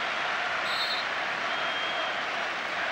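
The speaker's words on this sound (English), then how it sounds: "And just listen to the crowd's reaction" Football stadium crowd at a 2001 World Cup qualifier between Germany and England, a dense, steady roar of many voices murmuring and jeering with no single standout sound.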